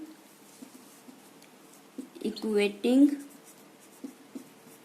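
Writing on a board while working through complex-number equations makes light, repeated taps and scratches, faint and steady beneath a voice explaining the maths.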